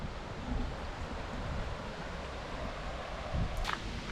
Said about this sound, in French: Il y a du vent, ça fait du bien.